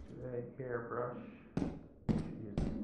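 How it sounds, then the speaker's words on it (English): Heavy footsteps from a monster wearing clown shoes in the video game Lethal Company, three loud thumping stomps in the second half, following a stretch of speech. "Something's stomping around. It sounds like it has clown shoes."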